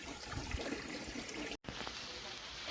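Tap water running through a hose into a pot or pitcher in a rural home, a steady close splashing trickle with a momentary gap, quiet and alone.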